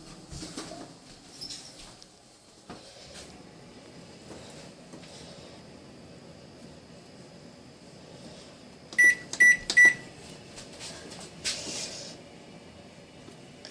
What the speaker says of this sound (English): And now we're going to preheat our oven to 350.